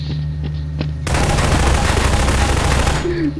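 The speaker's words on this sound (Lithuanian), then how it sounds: "The hunters that are shooting." Hunters fire rapid bursts of automatic gunfire in Garry's Mod, a loud sustained volley that erupts suddenly after a few faint clicks and keeps rattling continuously to the end.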